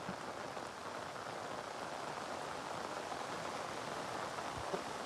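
Heavy rain pours steadily over waterlogged farm fields during a storm, a dense continuous hiss of drops hitting water and ground, with no voices.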